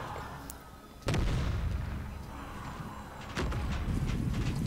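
Artillery guns fire in the video game Empire Total War: two heavy, booming volleys about two seconds apart, each rolling out into a rumbling tail over a low, steady background.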